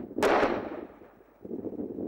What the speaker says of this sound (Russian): Взрывы на малых реках губернии этой весной прозвучат еще не раз.